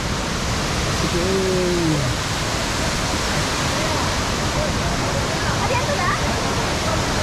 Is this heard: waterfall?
yes